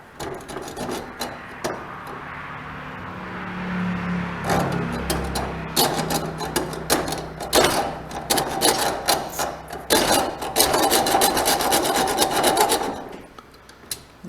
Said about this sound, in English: now I got to start this with the hacksaw.